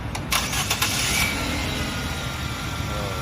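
The engine of a Nissan Tiida with a rough idle and gear-engagement shudder cranks and catches over a few seconds, then runs on at a steady close idle with no talking.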